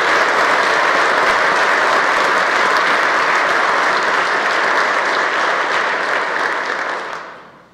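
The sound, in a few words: audience applause for the people of Kansas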